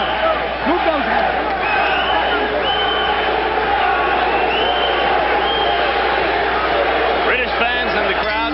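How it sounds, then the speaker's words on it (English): British boxing fans roar and chant in a packed arena during a world title fight, a dense, loud, continuous crowd wall with rhythmic voices rising through it and a commentator talking over the top. "British fans in the crowd chanting for their man"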